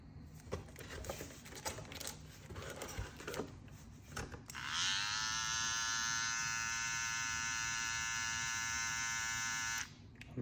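A StyleCraft Saber 2 electric hair clipper switches on after some plastic rustling and handling, buzzing in a steady close whine for about five seconds before cutting off.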